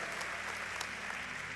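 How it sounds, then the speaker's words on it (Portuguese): Applause from a church congregation during a communion service, a steady dense wash of clapping that fills the space evenly from start to finish without breaks. "Pode dar uma salva de palmas."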